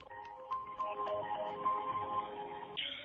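A phone line plays a soft, repeating electronic ringing tone while a call to the Nova Poshta delivery service connects, quiet and alone for about three seconds.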